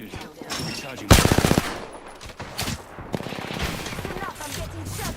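Rapid automatic gunfire bursts in the battle royale game Apex Legends, a loud close volley of evenly spaced shots followed by further scattered firing and game effects beneath faint voice chatter.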